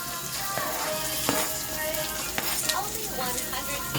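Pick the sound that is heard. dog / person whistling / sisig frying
sisig frying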